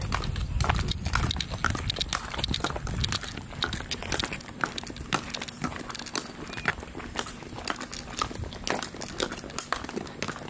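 A horse walks with steady, repeated clip-clop hoof beats on a ride, close and fairly loud throughout, with a low hum and some rustling underneath.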